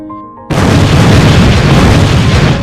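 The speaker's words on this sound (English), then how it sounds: "The resulting explosion ripped through the site and killed Mr. Farsen instantly." A sudden loud boom from LPG gas ignited by switchgear inside a plant, hitting after a half-second of quiet hum and rolling on as a sustained heavy roar.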